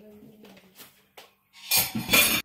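Plates are washed by hand in a home kitchen: faint clinks and rattling come first, then loud running water splashes and scrubs close by in two bursts, with a voice heard briefly near the start.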